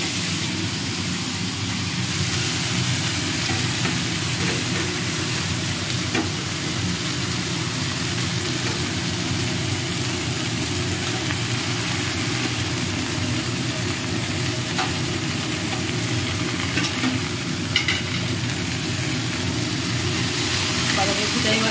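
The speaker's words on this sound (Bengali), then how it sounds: "বাঁধাকপিটা এবার আমি এভাবে একটু নাড়িয়ে চাড়িয়ে নেব" Shredded cabbage, washed and drained, stir-fried in a pan and tossed with salt, turmeric and green chilli produces a dense, constant sizzle that stays loud and even throughout, with faint scraping from the stirring.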